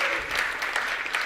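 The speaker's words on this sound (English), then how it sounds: "Can we give a big applause to him?" A live audience at a speaking event breaks into steady applause, a dense even wash of clapping held for just over a second with no voices on top.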